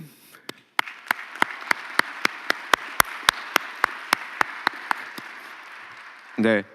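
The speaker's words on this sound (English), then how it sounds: "would you follow me with big claps for them?" Applause for the organizers at the closing of the 12th World Congress, heard as about twenty sharp, evenly spaced claps in a steady rhythm, fairly close and clear, ending with a short burst of louder sound.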